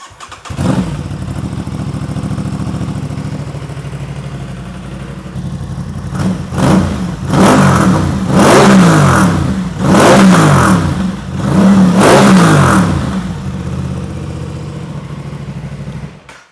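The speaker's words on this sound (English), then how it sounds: "So that's what it sounds like, just a touch, just a little bit throatier and louder than the stock exhaust." Aprilia Tuono 660 motorcycle fitted with an aftermarket exhaust, idling steadily and then blipped through a series of sharp, loud revs that rise and fall in quick succession before settling back to idle, close by with no talk.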